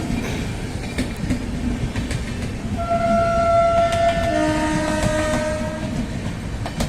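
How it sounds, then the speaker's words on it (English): A WAP7-hauled Humsafar Express passenger train running from Patna to Bangalore, with a steady loud rumble of wagons and a sustained horn blast sounding through the middle and later part. "Humsafar Express, Patna Junction to SMET Bangalore, runs only on Thursday."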